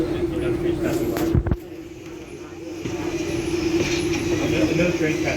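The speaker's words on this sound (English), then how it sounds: "Another train passing by." A train rumbles past nearby on a CSX main line with a steady low roar and rail noise, while a person talks over it.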